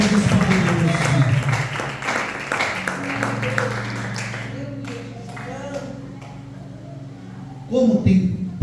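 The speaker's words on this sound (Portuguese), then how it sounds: "Aplaude a Jesus." A church congregation applauding Jesus during a worship service, steady crowd clapping that thins and fades midway, with a preacher's voice over the start and end.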